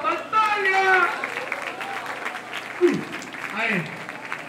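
Audience at a rap battle breaks into applause, clapping swelling briefly under an MC's voice, then fading as scattered shouts and talk continue.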